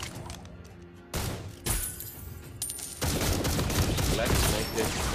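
Rapid bursts of video game gunfire crackle in loud volleys, with a brief burst near the start and a dense, continuous barrage over the last two seconds, amid game effects.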